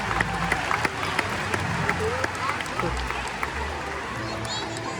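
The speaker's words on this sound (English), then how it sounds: "let's give both of our volunteers a round of applause" An audience applauds volunteers at a SeaWorld killer whale show in San Antonio, a broad, steady clapping spread across a large open-air stadium, with music and a voice over the sound system.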